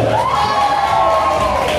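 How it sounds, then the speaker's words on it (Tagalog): A Christmas party crowd cheers and shouts in a continuous loud roar, with raised voices riding over the dense noise throughout. "Pahingi naman po na isang malakas na palakpakan may kasama sigawan."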